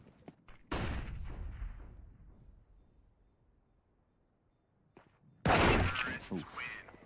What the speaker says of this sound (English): There's the final shot. Put in from Nexa and a deagle.